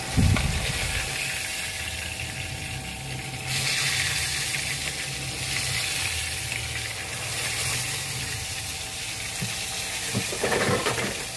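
Water runs from a kitchen tap in a steady, close hiss for the whole stretch, rising a little at times, with a faint sizzle of frying fish nearby and no talk.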